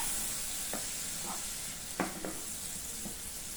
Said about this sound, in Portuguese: E vou deixar ele fritando